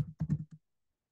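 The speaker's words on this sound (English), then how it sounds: "And I'm clicking on to copy button." A few quick computer mouse clicks in a software session, four or five close, crisp taps in a short burst, then silence.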